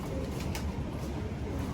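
In a large loft of old Indian pigeon breeds, a pigeon coos faintly, almost buried in loud, constant broadband noise, with no talking.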